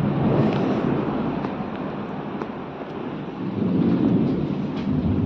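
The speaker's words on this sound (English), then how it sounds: "hope you can hear me properly because there is so much thunder" Loud, dense rumble of thunder rolling through a heavy rainstorm over flooding ground, a broad continuous roar that swells, eases midway and builds again, with constant rain wash underneath and no voices.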